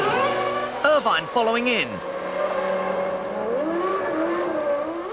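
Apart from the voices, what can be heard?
Formula 1 cars racing, 1997 season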